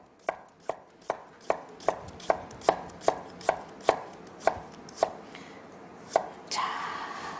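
A knife slices a carrot thinly on a cutting board, a steady series of about a dozen crisp, evenly spaced chops, close and alone, ending with a brief scraping rustle.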